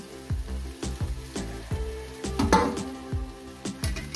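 Potatoes and jackfruit sizzle in a pan of cooked-down spice paste, with soft frying crackle and several sharp metallic knocks of a spoon against the pot at irregular intervals; no voices.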